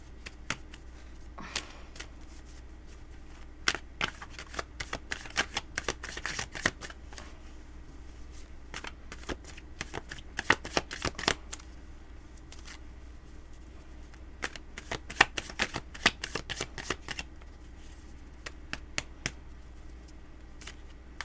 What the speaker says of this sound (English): I'm about to shuffle your deck.